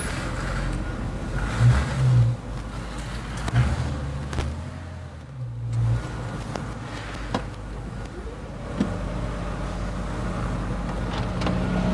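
1956 Chevrolet Fastback car engine revving and driving, a steady close motor rumble with a few swells in revs and occasional clicks and knocks, people talking over it at times.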